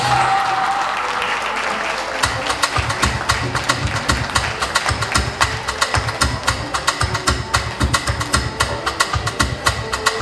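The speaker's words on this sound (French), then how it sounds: "Des applaudissements pour ces 6 candidates," The crowd at the Miss Caraïbes Hibiscus 2026 pageant applauds six candidates during the traditional outfit segment, a steady wash of clapping over a heavy, rhythmic low thumping beat that runs through most of the stretch.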